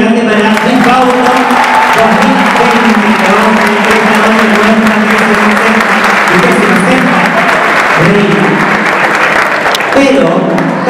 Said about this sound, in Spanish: Así que un aplauso grande para Luis Fauco.